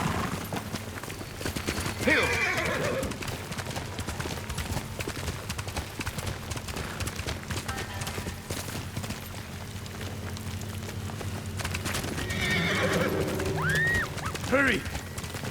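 Horse hooves clip-clop steadily on a road in the samurai video game Ghost of Tsushima, with a bright whinny near the end over a low ambient game score; a voice speaks briefly.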